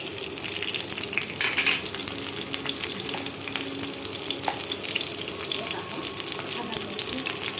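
Onion and green chilies fry in hot oil meant for frying potatoes, giving a steady, close crackling sizzle with a few faint utensil clinks and watery splashes throughout.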